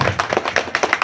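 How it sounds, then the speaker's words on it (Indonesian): Applause from an audience at the inauguration of an 'Aisyiyah kindergarten building in Tasikmadu, a short burst of steady, fairly close hand clapping with no voices over it. "sekali lagi tepuk tangan"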